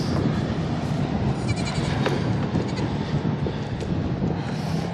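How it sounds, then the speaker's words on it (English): A goat bleats outdoors on a windy New Mexico ranch during a long goat migration, with a few short bleats rising above constant loud wind rumble. "That a goat."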